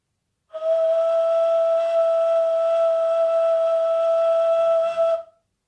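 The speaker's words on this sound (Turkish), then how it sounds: "Bizim duyacağımız ses re neva sesi. Tekrar gösterelim." One long, steady ney note, the neva D, held for nearly five seconds, clear and breathy, played close with nothing else sounding.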